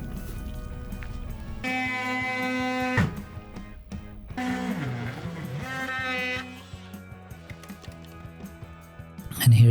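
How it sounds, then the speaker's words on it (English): An oscillating tool buzzes in short bursts as it cuts through hardy board, with whining vibration between pauses and some scraping handling noise. "So I use my oscillating tool here to cut that part out."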